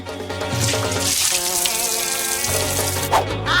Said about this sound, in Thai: จากนั้นก็เทน้ำทั้งหมดออกแล้วมาทำเครื่องดื่มกัน